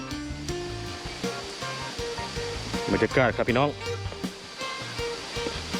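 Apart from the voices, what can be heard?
Saeng Chan waterfall, Ubon Ratchathani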